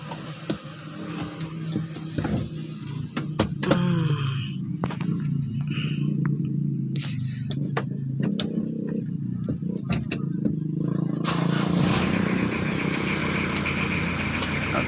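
A car engine idles and runs steadily after a clutch repair, with a low continuous hum, some clicks and ticks early on, and a slight rise in intensity toward the end.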